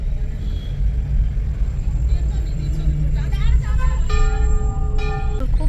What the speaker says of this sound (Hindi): यहाँ पे आजकल बहुत ट्रैफिक हो रहा है क्योंकि यात्रा शुरू हो गई है